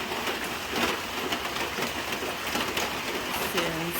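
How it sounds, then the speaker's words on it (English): Heavy rain pours down steadily in Jamaica, a dense, even hiss that fills the scene, with a voice briefly speaking over it near the end. "this is what the weather is like in Jamaica right now. It's been raining like this"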